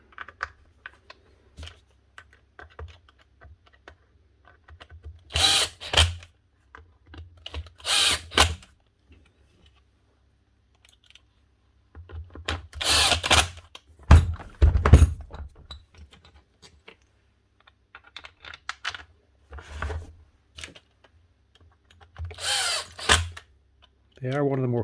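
A Makita HR5211C rotary hammer, repaired after running but failing to hammer, fires in several loud, short bursts. Quiet handling clicks and someone talking fill the gaps between bursts.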